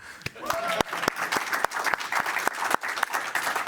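Audience applause at a port-industry user forum, steady clapping from a crowd in a hall with sharp individual claps standing out and a brief voice over it.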